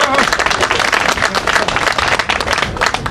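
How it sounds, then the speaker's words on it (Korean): A crowd at an outdoor rally in Yeouido Park claps in a lively burst, individual hand claps audible within the dense applause, loud and close, with some voices mixed in. "기대하면서 박수를 한번 보내주십시오."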